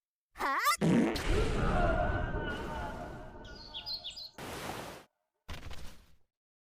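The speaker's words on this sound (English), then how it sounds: "the bride let out a tremendous fart" A loud, drawn-out comic fart sound effect from a bride in a Japanese folktale, a long rumbling blast of several seconds with chirpy squeaks on top, ending in short separate puffs.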